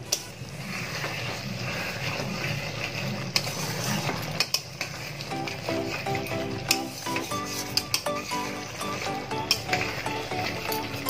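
Milk paneer curry being stirred in a pan, a spoon scraping and clinking against the metal with soft sizzling underneath, steady and close with no talk.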